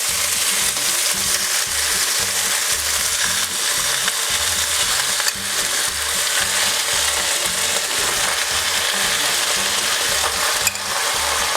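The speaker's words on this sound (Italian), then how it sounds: "E ora rimettiamo in padella le nostre scaloppine." Veal scaloppine sizzling steadily in a pan with leftover butter and mushrooms, a loud continuous frying hiss with occasional stirring clinks and no talking.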